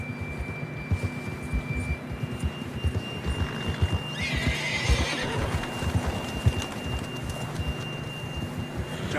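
A horse in the Red Dead Redemption 2 video game, on a winter ride, clip-clops steadily throughout while a loud, shrill whinny breaks out midway over a low rumbling backdrop.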